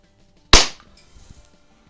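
A single sharp, close shot from a Xisico XSP120D dual-caliber air pistol, similar to a Beeman P17, with a quick snap that fades within a quarter second, followed by faint handling noise.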